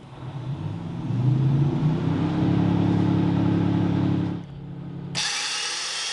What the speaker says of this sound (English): I'm going to fire up a generator and take it for a spin.